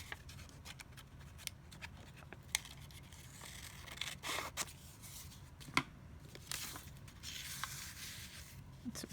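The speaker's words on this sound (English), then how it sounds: "So then that's going to mean cutting it right there." Scissors snip and slice through paper for scrappy craft notepads, with short crisp cuts and faint rustling scattered across a quiet indoor setting.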